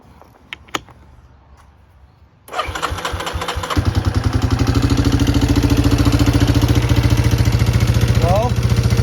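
A Yamaha Moto 4 350 ATV with a newly replaced carburetor cranks and fires up, then settles into a loud, close, steady putter after a few quiet clicks.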